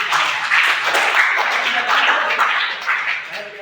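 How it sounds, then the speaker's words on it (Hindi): A school audience, cued by a teacher in a classroom, bursts into dense, steady applause of many hands clapping at once that fades slightly toward the end. "चलिए बहुत बहुत तालियां बजाइए"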